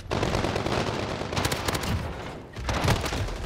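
Rapid automatic fire from an MP5 submachine gun in Modern Warfare, loud, dense sustained bursts with a short lull before another burst.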